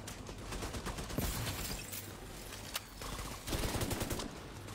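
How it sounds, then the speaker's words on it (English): Automatic gunfire from the video game Division 2 crackles in quick bursts of rapid shots, fairly quiet in the game mix, with a pause between volleys and no speech. "There's an automatic gun."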